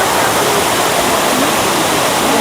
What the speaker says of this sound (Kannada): ನೋಡಿ ಎಷ್ಟು ಚೆನ್ನಾಗಿ ಬೀಳ್ತಾ ಇದೆ. ಶಬ್ದ ಅಂತೂ ಸಿಕ್ಕಾಪಟ್ಟೆ ಬರ್ತಾ ಇದೆ